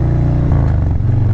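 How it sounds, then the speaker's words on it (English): Harley-Davidson touring motorcycle exhaust while riding, a loud, steady, deep throaty rumble heard up close for a brief moment. "Man, that exhaust note is ridiculous."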